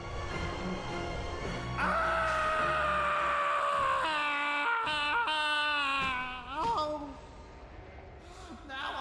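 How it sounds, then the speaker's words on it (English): Mikolash, a character in the video game Bloodborne, lets out a loud, drawn-out wailing scream that rises and wavers over several seconds, with a second shorter cry following, set against a dense layer of game sound. "Mikolash screams, a great scream among great screams"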